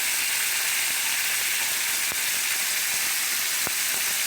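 Parmesan fried chicken sizzles in hot oil in a pot, a loud, continuous crackling hiss that stays even throughout, with a couple of sharper pops and no talking.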